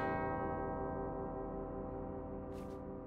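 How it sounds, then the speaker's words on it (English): Two bells struck together in the Uncharted video game, ringing in harmony with a sustained, slowly fading tone and long shimmering overtones, loud and alone, with a brief faint rustle near the end. "Two bells resound in perfect harmony."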